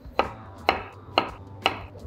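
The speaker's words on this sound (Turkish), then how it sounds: "İşe tabii ki patatesleri doğrayarak başlayacağız." A knife chops through potatoes on a cutting board in four evenly spaced, crisp thuds, close and clear with little else around them.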